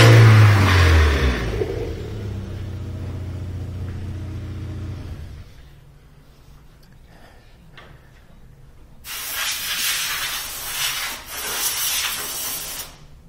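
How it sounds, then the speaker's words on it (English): A VW A3 2.0L engine roars loudly with an open exhaust, settles to a low idle rumble, then revs up again in two bursts. "Obviously a little bit noisy because of the open exhaust."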